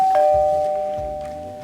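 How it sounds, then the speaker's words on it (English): A doorbell rings once with a sustained tonal chime, clear and fairly loud, fading out over under two seconds with a faint low murmur beneath. "as the doorbell rang."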